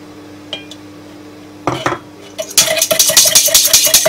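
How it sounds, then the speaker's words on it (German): Milk poured into beaten eggs in a bowl while making spaghetti carbonara, with clinking of a utensil against the dish and a burst of rapid whisking-like scraping and clatter that grows busier toward the end. "So, jetzt kommt zu den Eiern noch die Milch."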